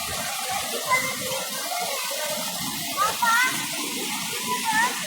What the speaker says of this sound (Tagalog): Yan, sumisirit ang tubig, no? Galing sa tuktok yan.